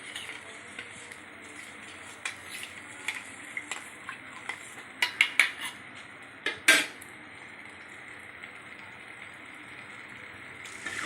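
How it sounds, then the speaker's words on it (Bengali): A metal spatula stirs curd curry in a karai, giving a run of clinks and scrapes that build to several louder knocks midway, over a faint steady sizzle. "খুন্তি দিয়ে ভালো করে নেড়ে নিলাম নাড়াচাড়া করে নিয়ে সব মিশিয়ে দিলাম মশলাটা"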